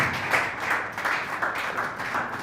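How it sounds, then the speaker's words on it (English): Audience applause at a launch event for an AI and robotics research and training center, a steady wash of many hands clapping at moderate distance, swelling in soft waves without any speech over it. "Don't be stingy with your clapping"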